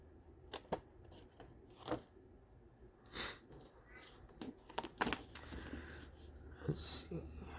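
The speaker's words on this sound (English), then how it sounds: "And then we'll just cut out the excess here" Quiet snips and paper rustling as scissors trim excess paper from a handmade lapbook, close and intermittent, with soft crinkles between cuts.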